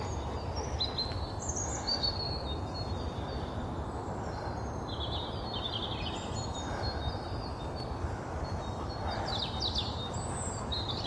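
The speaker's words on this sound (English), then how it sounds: "I just wanted you really to hear the beautiful birds." Birds sing and chirp in scattered bright calls during a barefoot morning walk among pines, moderately distant over a steady outdoor hiss.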